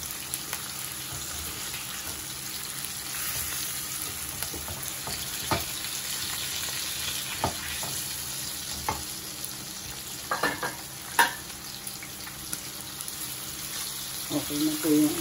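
Tanigue fish fries in butter with garlic in a pan, giving a steady sizzle broken by occasional clicks and stirring scrapes, close and moderately loud.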